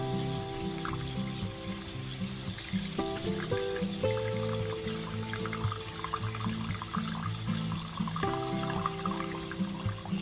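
Chicken stock poured into a pan of flour, milk, soy sauce and salt for a burger steak gravy, a steady close trickle of liquid running for about ten seconds over faint background music, no talk.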